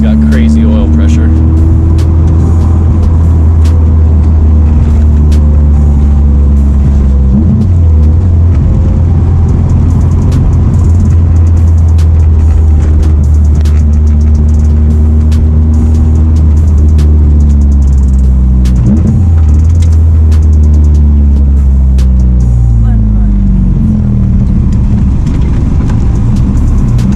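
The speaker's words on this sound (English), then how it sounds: "That's Brian revving it, it's not revving itself." A Honda K24A2 engine in a Mazda Miata revs loudly and holds a deep, steady drone, rising and falling in pitch several times, close by and continuous throughout.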